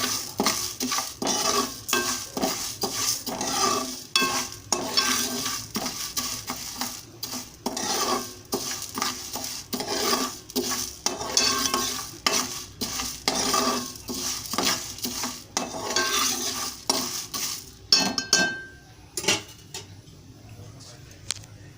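Ingredients for mutton haleem fry lightly in a pan while a metal spoon stirs and scrapes, giving repeated clinks and scrapes over a soft, steady sizzle close by.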